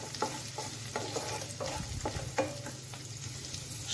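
Vegetables fry in ghee on high heat with a dense, steady sizzle, while a spatula stirs and scrapes the pan in a regular rhythm close by.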